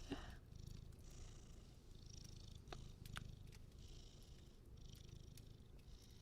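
A house cat called Mr. Purple purrs softly and steadily close up, a faint continuous rumble with a few small rustles and clicks.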